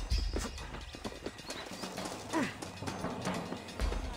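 Horse hooves in the video game Red Dead Redemption clop in a steady walking rhythm, close and moderately loud, with faint ambient game sound behind.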